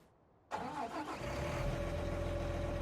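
Engine of a Case Steiger 9190 tractor with a Cummins engine, modded into a farming video game, cranks briefly after silence, catches and settles into a steady, loud low idle.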